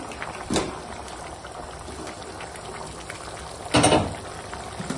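Malabar spinach curry with fried catla fish head bubbling in a pot, a steady low simmer with two brief louder stirring bursts.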